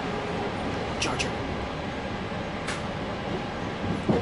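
Train rolling along rails on a journey to Great America amusement park, a steady broad rumble throughout with a few brief sharp squeals or clanks near the middle and end.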